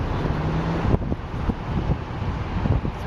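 Strong wind at a Sydney beach buffets the microphone in a constant low roar, with a brief louder gust partway through and no voices.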